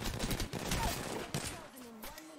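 Rapid bursts of video game gunfire crackle through the first second and a half, close and dense, then thin out as a tonal game effect sweeps in near the end.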